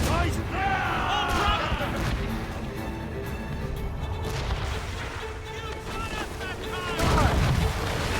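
Ship cannon fire during a naval battle in Assassin's Creed Rogue, heard as deep booming blasts under continuous shouted crew voices, with a noisy rumble of wind and sea throughout and a louder burst near the end.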